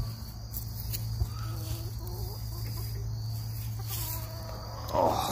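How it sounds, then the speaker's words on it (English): Backyard chickens out and about give soft, scattered clucks at moderate distance over a constant loud drone of crickets, with a brief rustle near the end. "Oh, my little chickens out and about."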